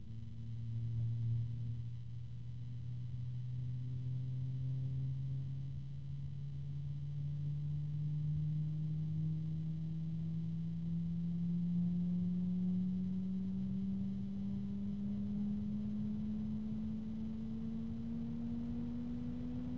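A Yeston Zeaginal ZC-12025 120mm PWM case fan runs at medium speed with a steady airy whoosh. Its low hum climbs gradually in pitch over about twenty seconds, with no voices.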